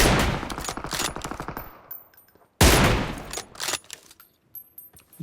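Bursts of automatic gunfire from the video game PUBG come in two loud rapid volleys separated by a short pause, each with quick repeated shots, followed by fainter scattered clicks.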